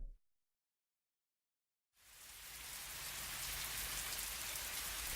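Rain in the video game Fallstreak begins after a short silence, rising quickly into a steady, loud hiss of downpour that keeps going to the end.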